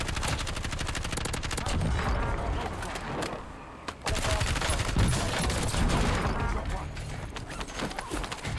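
Dense, rapid gunfire rattles through a Warzone video game match, with continuous automatic bursts and loud shot clusters packed close together across the whole stretch.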